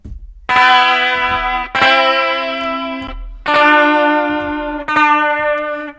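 Four clean, bright electric guitar chords from the Rick 12 Evolution MIDI guitar plugin ring out one after another, each sustaining with a slight echo before the next strum.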